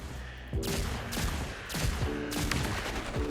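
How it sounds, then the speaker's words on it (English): Exotic hand cannon firing rapidly in the mobile game Destiny Rising: four or five sharp, loud gunshots in quick succession, each ringing out with a metallic decay, with no talking over them. "I guess I actually have to shoot."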